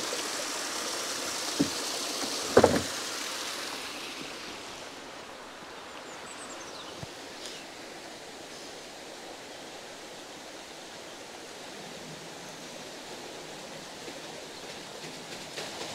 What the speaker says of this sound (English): Right, John, should we let a bit of water through?